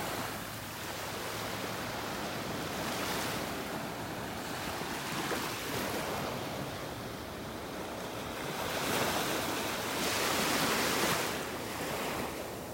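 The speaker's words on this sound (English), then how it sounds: "for the Gulf of Mexico, these are waves." Gulf of Mexico waves wash onto a beach on Florida's west coast in North Naples, a steady broadband surf roar with gentle swells and some wind over the microphone, no talking.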